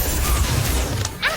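A Fantastic Bomb spell detonates in Harry Potter Magic Awakened, a short, punchy crash with a whooshing burst and a bright magical sparkle trailing off at the end.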